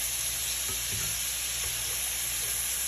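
Garlic butter shrimp frying in a pan, a steady broadband sizzle with faint stirring scrapes, close and continuous with no talk.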